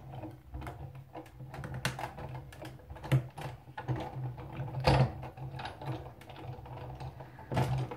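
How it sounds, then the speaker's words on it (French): A Big Shot die-cutting machine crunches and clicks through paper in a steady run of dry cracks and snaps, with a few louder crackles standing out, fairly close. "elle fait des bruits de craquement, mais c'est normal, c'est le bruit du papier qui se découpe"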